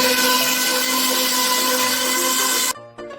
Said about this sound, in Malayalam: നമുക്ക് ആ സമയത്ത് മിക്സി എടുത്ത് അതിലേക്ക് വേണ്ട മിക്സ് തയ്യാറാക്കാം.